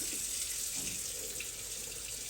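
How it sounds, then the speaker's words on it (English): Hot tap water runs steadily from a kitchen faucet, a close, continuous splashing hiss with no voices. "I'm going with the tap water"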